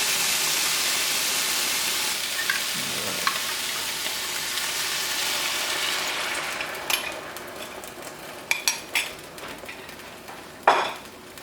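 Steady frying sizzle of chicken fills the pan, with occasional clinks and scrapes of a utensil against the metal near the end.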